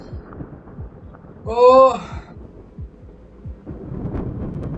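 Thunder in the horror video game Taken rolls as low, thudding rumbles with a heartbeat-like pulse, swelling toward the end, while a man lets out a brief startled exclamation over it.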